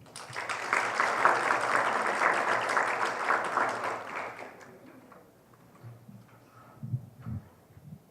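Audience at an evening panel on referendum financing applauds steadily to welcome a speaker, full clapping for about five seconds that then fades out, leaving faint room noise and a few low thumps.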